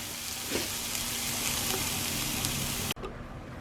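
Mixed vegetables fry in a pan with a steady, fairly soft crackling sizzle that stops abruptly near the end with a brief knock, and no voices over it.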